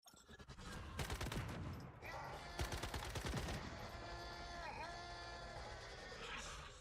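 Gunfire aimed at egg sacks in Once Human comes in two quick automatic bursts, loud and close, followed by a wavering, bleating creature-like cry and lingering combat noise.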